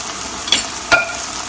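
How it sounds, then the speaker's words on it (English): Diced tomatoes go into a finished chicken stir fry in a hot pan, giving a steady low sizzle with two brief sharp splashes or clatters as the pieces land, close and without talk. "I'm going to add my diced tomatoes because my stir fry is all done"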